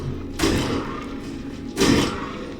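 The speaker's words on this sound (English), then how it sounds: "Why does this, like, rusted pipe make a gunshot sound?" A rusted pipe fired as a weapon in the Elex 2 video game lets out two sharp, loud bangs about a second and a half apart, each with a brief decaying tail.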